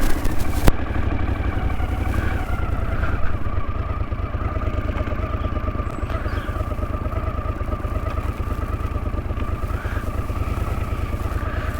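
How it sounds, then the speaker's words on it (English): A 1981 Honda CX500 motorcycle engine idles steadily and close by, a low rhythmic throb with light mechanical clatter running evenly throughout, with no voices. "I'm going to pull in and just see if I can raise the idle ever so slightly"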